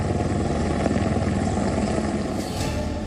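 An Indian Air Force Apache attack helicopter lands at a helipad in Kishtwar, Jammu, its loud steady rotor thrum and engine roar filling the scene without pause, close and powerful.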